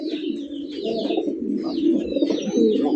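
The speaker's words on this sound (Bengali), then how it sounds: "কোকা কবুতরের কালেকশন মাশাআল্লাহ" Koka pigeons in a fancy pigeon collection coo close by in soft, repeated throaty phrases, with light chirps above them and no voices.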